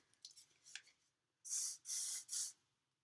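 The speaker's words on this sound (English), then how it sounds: "I'm just using some hairspray to grab some of these hairs and just smooth it" Hairspray misted onto hair in three quick, loud, close hissing bursts after a few soft handling rustles, with a short silence before the sprays.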